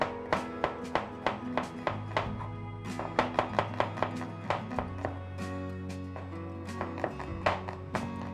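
A medium onion being sliced on a board with a knife, a steady run of crisp, close chopping taps with short pauses, over a sustained musical tone in the background.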